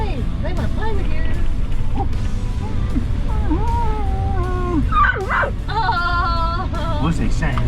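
Puppy whimpering, yipping and howling inside a car on a remote Kimberley drive in the wet season, a string of high wavering whines and yelps close by, with people talking around it and road rumble underneath.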